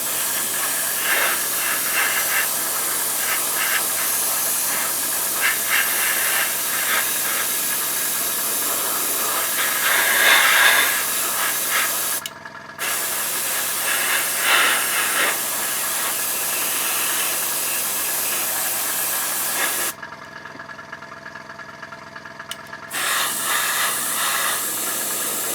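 Airbrush or spray can hissing steadily while gentle coats of paint go onto a 1/35 scale T-34/85 tank model, a continuous close spray broken by two short pauses.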